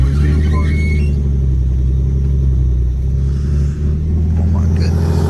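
A BMW E46 undergoing a clutch replacement runs with a loud, close, steady low engine rumble and a slight waver near the end, with people talking over it.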